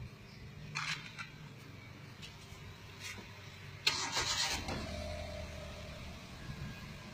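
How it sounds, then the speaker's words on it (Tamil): A car's engine is started in quiet surroundings. A few faint clicks come first, then a brief cranking burst catches into a low, steady idle hum, all fairly soft and close. "இப்போ நம்ம வண்டியை ஸ்டார்ட் பண்ணுவோம்."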